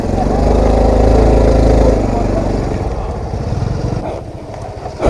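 A Honda CT110 motorcycle engine revs in the wrong gear and holds a strained drone, then drops back to a rougher, lower rumble, loud and close.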